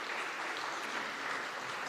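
An audience at a tourism panel session applauds steadily as panelists join the stage, a dense continuous clapping from many hands at moderate distance, with no talking over it.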